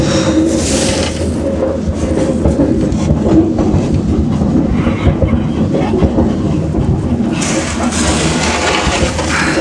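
A freight train hauled by locomotives rolls along the rails in northern Russia, a steady loud rumble with rhythmic clatter and bursts of hiss, close by and continuous with no talking.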